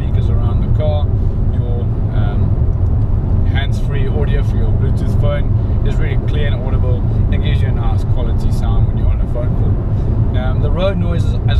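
Steady broadband road rumble and wind noise fill the cabin of a 2017 Fiat Panda Cross 0.9L TwinAir throughout, with a person talking over the constant low drone.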